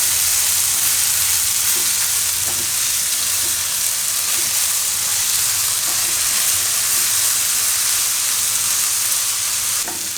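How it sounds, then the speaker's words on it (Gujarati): Dal cooking in a pan on a high gas flame for dudhi dal pulao, giving a steady close frying sizzle and hiss with soft occasional clicks of stirring, no voices. "તો થોડીક વાર દાળને આમાં પાકવા દઈશું આપણે."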